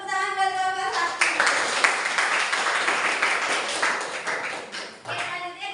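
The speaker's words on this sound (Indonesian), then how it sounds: "Tepuk tangan buat kelompok 1." Students in a classroom clap for a presenting group, a lively patter of many hands from near and mid distance that starts after a short opening tone and fades slightly toward the end.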